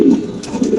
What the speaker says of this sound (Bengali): এই যে এই কবুতরটা কি কবুতর যে ডাকতেছেন এটা?